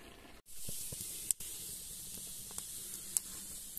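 A steady hissing sizzle of cumin seeds frying in hot oil, with a few faint pops and clicks throughout.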